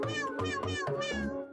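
A cat meows several times in a quick run of short, tonal, rising calls, close and clear, with a child-like voice quality to the repeated cries.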